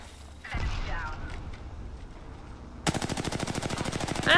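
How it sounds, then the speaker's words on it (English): Rapid automatic gunfire from the video game Apex Legends rattles in a steady, evenly spaced burst through the second half, loud and close, after a stretch of quieter game ambience with a brief voice. "I'm missing all my shots."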